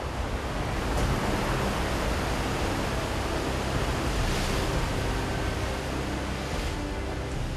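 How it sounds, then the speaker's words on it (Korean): Rough sea waves surge and break continuously in Indonesia under a heavily overcast sky, a loud, steady wash of surf with wind noise and no voices. "하늘은 잔뜩 흐리고 파도는 거세게 출렁입니다"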